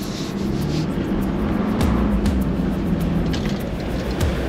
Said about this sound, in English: Let's drive up the dune.